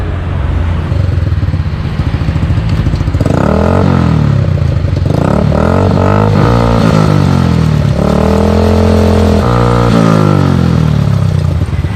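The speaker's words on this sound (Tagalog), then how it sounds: "buksan mo yung makina, paandarin mo hanggang 4th gear" A motorcycle engine with a broken chain runs loudly throughout, revving up and down repeatedly in rising and falling bursts up to fourth gear, with some mechanical clatter underneath.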